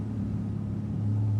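A truck engine, used as a sound effect in a 1949 radio drama, gives a steady low rumble that swells slightly near the end. No voices.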